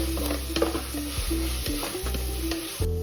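Ginger garlic paste sizzles and fries in a hot pan while a utensil stirs and scrapes through it in steady repeated strokes, close and continuous, with no talking.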